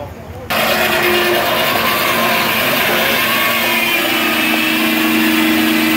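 The engine of a circle saw mill at a fall festival picks up again after stalling mid-cut, a loud steady mechanical drone kicking in abruptly after a brief quieter moment, with talking mixed over it.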